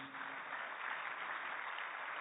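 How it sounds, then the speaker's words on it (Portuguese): Audience applause at an official government event in Brazil, a dense, steady clapping from a large crowd that carries on unbroken for a couple of seconds, heard at a distance with no voices over it. "uma salva de palmas para as mulheres"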